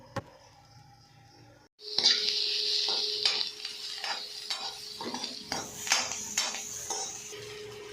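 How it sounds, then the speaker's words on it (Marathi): After a brief near-silence, onion and tomato start sizzling loudly in a pan for paneer matar masala, with repeated clinks and scrapes of a spoon against the pan. "कांदा गुलाबी झाल्यानंतर त्यामध्ये टोमॅटो परतून टाकते"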